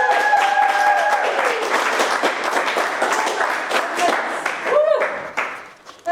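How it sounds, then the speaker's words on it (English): A gala audience breaks into a round of applause at the close of an auction, brisk dense clapping that holds steady then thins out and fades, with a voice speaking over it near the start. "Everybody give them a big round of applause."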